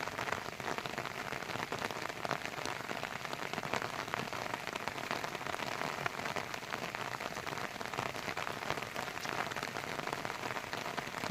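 Steady rain patters down on a surface in one continuous, even hiss of drops, fairly close and unbroken, with no voices over it.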